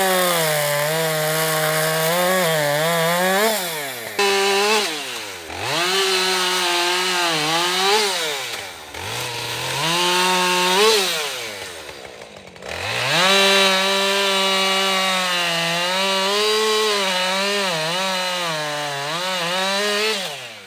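A chainsaw revs and bogs again and again as it cuts through a treetop. The whine rises and drops through several cuts, loud and close, with a short idle break between passes.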